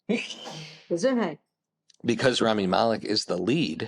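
A single sneeze bursts out at the start, close and loud, and people talk right after it.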